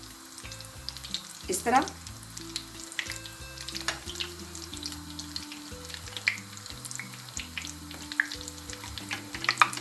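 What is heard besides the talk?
cheese rolls frying in oil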